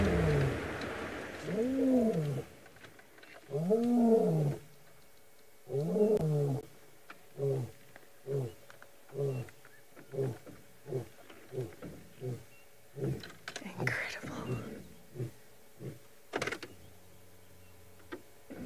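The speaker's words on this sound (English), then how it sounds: "Both males have visual of each other and are vocal." Two male lions roar on safari in a long sequence: a few deep drawn-out roars, then a run of shorter grunting roars that grow quicker and fade, heard from a distance.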